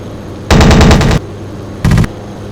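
Aircraft machine guns in a WWII air combat game with Luftwaffe and RAF planes, two loud, close bursts of rapid fire, a long rattle of about seven shots, then a short second burst, over a steady engine drone.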